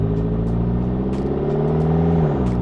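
A McLaren 650S on a test drive after a suspension repair with accumulators, its engine droning steadily with a rising then falling pitch as it accelerates and eases off, loud and close throughout.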